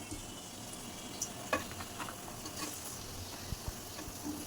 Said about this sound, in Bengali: পেঁয়াজগুলো খুব সুন্দর করে ভেজে নেওয়া হবে